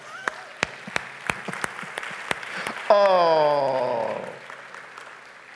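A church congregation claps in praise to God, with sparse rhythmic claps leading into a brief exclaiming voice over a fading bed of crowd sound.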